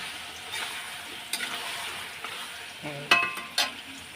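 Eggplant frying in a pan at home: a steady soft sizzle runs throughout, with occasional stirring scrapes and a few sharper clinks of utensil on pan near the end, and no one speaking.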